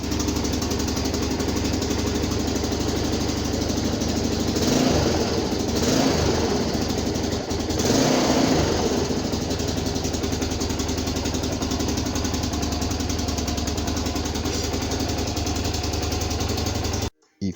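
Harley Davidson MT-350 motorcycle engine fitted with an ABS-printed thrust cone, running steadily and loudly with a dense low throb, rising briefly in revs a few times before cutting off at the end.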